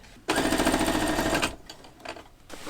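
A sewing machine stitches a jacket facing in one loud, steady burst of rapid needle strokes lasting about a second, then stops, followed by faint handling sounds.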